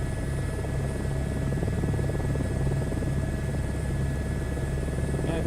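A helicopter in a VR flight game landing for an evacuation drones continuously with a steady rotor buzz and engine whine, loud and unchanging, with no voices over it.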